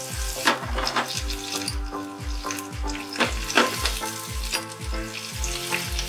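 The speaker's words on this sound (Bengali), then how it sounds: "এবার আদা রসুন দিয়ে হালকা নাড়াচাড়া করব।" Onion, ginger and garlic sizzle steadily in a pan of hot oil for a Bengali-style arum spinach dish, with regular scraping stirs cutting through the close, continuous frying hiss; no voices.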